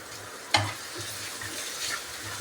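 Curry leaves and green chillies frying in a pan, giving a steady soft sizzle with a sharp burst of spitting early on and faint stirring throughout.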